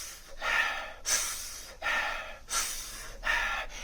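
Rhythmic breathwork breathing, forceful audible inhales and exhales alternating at a steady pace, close and clear with no talking.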